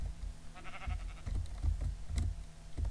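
Minecraft sheep bleating in a survival world, a few soft short bleats over light clicking keyboard taps, fairly quiet.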